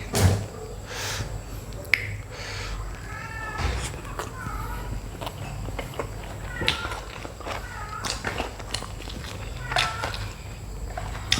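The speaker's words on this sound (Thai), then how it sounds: "ได้ยินเสียงแมวไหม" A cat meows several times in a kitchen during a Thai home meal, short rising calls scattered through the stretch amid light clicks, taps and footsteps, with no talking.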